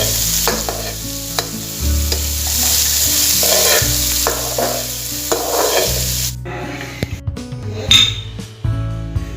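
Aloo samosa filling frying lightly in a pan, with a continuous sizzle, stirring strokes and occasional metallic clinks of utensils against the pan, loud and close.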